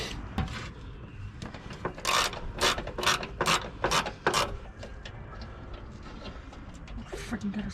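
A ratchet wrench turning fasteners on a van engine gives close, rapid clicking strokes in a run of sharp bursts, with voices talking around the work.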